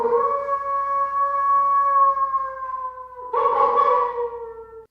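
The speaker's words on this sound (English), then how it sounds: "this is the wolf" A wolf gives a long, steady howl that holds a sustained tone, then breaks and starts a second howl close by, with no talk over it.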